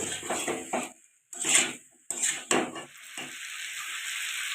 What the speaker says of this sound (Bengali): এবার এগুলো দুই থেকে তিন মিনিট ভালো করে কষিয়ে নেব